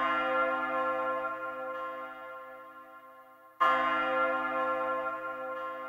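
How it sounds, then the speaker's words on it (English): A dark bell preset from the Nexus 2 Halloween expansion rings out in two sustained, harmonically rich strikes: the first decays slowly, then a second strike lands about midway and rings on, with no voices. "Halloween expansion, it was the dark bell preset right here."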